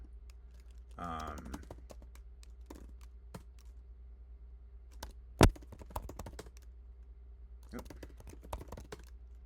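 Scattered keystrokes on a computer keyboard at a desk setup, a few light clicks spread across the stretch with one sharper tap midway, fairly close but quiet, with a brief burst of talk near the start and a low steady hum underneath.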